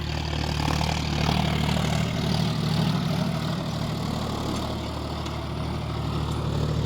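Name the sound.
tractor engine running in high gear in a potato field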